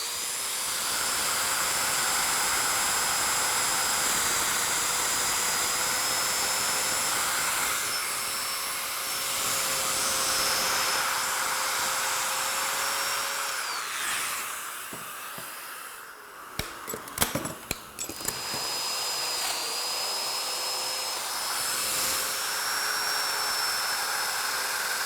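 A Domino joiner cuts matching mortises into cabinet sides for built-in furniture, giving a steady high-pitched motor whine that runs nearly continuously, dips briefly mid-way with a few sharp clicks and clunks, then resumes at full level.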